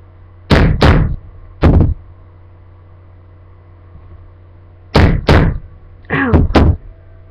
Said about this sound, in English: just going to hold it down tight, start nailing it down